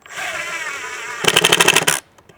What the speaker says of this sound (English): You can hear the impact click.